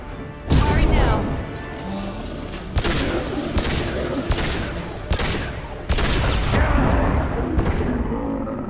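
Gunfire in Mass Effect 2 Legendary Edition, with repeated loud bursts and blasts that keep cutting in over a dense, continuous din of combat and a speaking voice.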